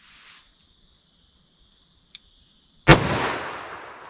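A .357 Magnum revolver with a 4-inch barrel fires one Buffalo Bore round: a single sharp, loud blast with a rough decaying tail, after a quiet stretch with a faint steady electronic tone from a chronograph.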